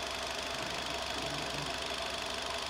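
A car engine idles steadily with the clutch held half pressed, a constant mid-pitched hum with a faint knocking vibration and no speech.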